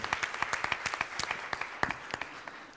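Applause from a small audience at a round-table event: a sparse scattering of individual claps, distinct and fairly close, at an uneven rhythm that tapers off after a few seconds.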